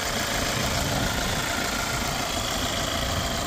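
A 2016 Hyundai Santa Fe automatic engine idles steadily at close range, a continuous even rumble with no talking.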